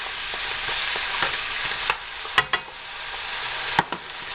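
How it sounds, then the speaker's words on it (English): Meat and mushrooms are stirred into a sizzling beef stroganoff sauce in a pan, a steady frying hiss broken by several sharp scraping taps of the spoon. "I have the mixture of meat and mushrooms here, which I will add to the sauce. Stir them in so they soak it in and get that flavor."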